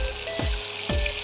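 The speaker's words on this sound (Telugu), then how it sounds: "ఇట్లా వేపేది" Fish frying in a pan: a steady, loud sizzle and hiss of hot oil, with two sharp bursts of crackle spaced about half a second apart, close up and with no talk.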